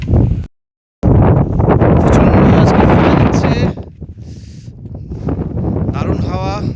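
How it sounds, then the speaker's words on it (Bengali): Strong mountain wind on the trek from Kalipokhri toward Sandakphu buffets the microphone in a loud, roaring rush, drops out briefly, then eases into a lighter gusting with a voice heard faintly near the end. "দারুণ হাওয়া"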